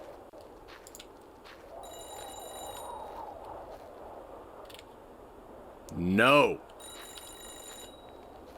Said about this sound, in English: Is the ringing coming from phone booth?